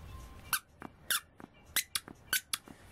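A baby Simba plush toy from the Lion King line squeaks in a series of short, sharp chirps, about seven quick squeaks at irregular intervals, close up and clear with no talking.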